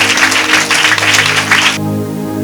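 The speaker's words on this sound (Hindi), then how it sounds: "एक जोरदार ताली परमेश्वर के वचन के लिए बजाएं" Church congregation applauding loudly together during a sermon, a dense wash of hand claps for about two seconds that then cuts off abruptly, leaving a low steady hum of the hall and sound system.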